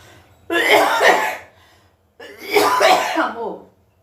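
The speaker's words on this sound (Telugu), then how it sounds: "దగ్గు బాగా విపరీతంగా వచ్చేస్తుంది" Two harsh, fairly loud coughs from one person nearby, each a rasping burst of about a second, separated by a short quiet pause.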